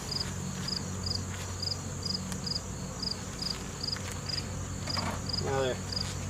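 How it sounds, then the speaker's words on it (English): Honeybees hum and buzz steadily close by during a honey harvest, a continuous insect drone with faint rustling and a brief voice near the end. "hear the buzz of their wings is a little more"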